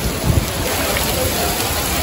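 Steady rain falls outside in Bangkok, a dense, even hiss of downpour filling the background at close range, constant and unbroken, with a faint electrical whine running above it and no clear speech.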